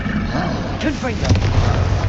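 A Confringo fire blast spell cast in Hogwarts Legacy booms and roars in a short burst, with a shouted voice and game effects layered over it.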